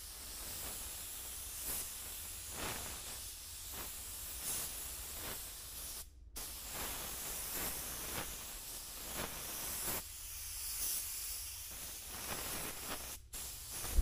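Sealer is sprayed onto a car from an LVLP spray gun in a medium coat, with soft hissing bursts that rise and fall across several short passes and brief gaps, moderately quiet and without speech.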